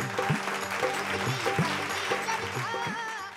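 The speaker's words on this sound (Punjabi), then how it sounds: "ਤਾੜੀਆਂ ਮਾਰੋ ਜੀ ਪੰਕਜ ਵਾਸਤੇ" Studio audience clapping for a young contestant named Pankaj on a Punjabi singing talent show, a steady close round of applause with music playing underneath.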